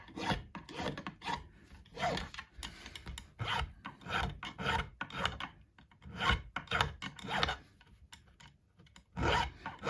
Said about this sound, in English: Now, once I've done the manual filing business, they still aren't very comfortable.